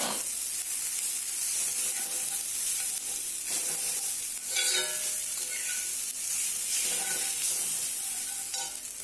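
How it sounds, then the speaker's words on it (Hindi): Vegetable chow mein with capsicum, onion and garlic stir-fries in a hot pan, producing a continuous bright sizzle broken by repeated scraping and tossing strokes throughout. "अब इसे चाउमीन को भी थोड़ा फ्राई कर लेंगे"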